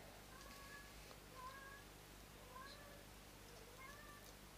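A cat meows several times at a steady pace, with faint, drawn-out cries repeating over a soft background hiss while someone demonstrates fishing knot tying.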